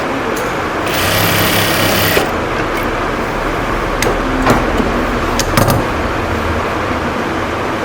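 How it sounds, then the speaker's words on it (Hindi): A sewing machine stitches fabric close by in short bursts of rapid mechanical whirring, separated by brief pauses and a few sharp clicks and clacks as the work is handled. "फिर एक ऊपर से सिलाई मारनी इसमें"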